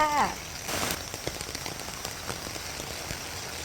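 Steady rain patters on a surface nearby, a dense continuous hiss with scattered drips, after a brief voice at the start.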